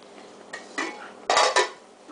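A utensil stirs food in a cooking pot, giving a handful of metallic clinks and scrapes. Two louder knocks land near the middle, all close-up and without talk.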